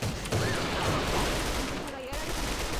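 Rapid automatic fire from an SA58 Para Glass rifle in the online shooter AVA, a dense continuous burst of shots lasting nearly three seconds with a brief break near the end.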